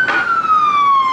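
An emergency vehicle siren wails in Colombian traffic, a loud, close, steady tone gliding slowly downward as it passes, with no voices.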